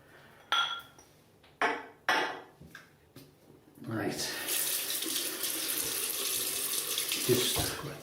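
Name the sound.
tap water wetting a shaving brush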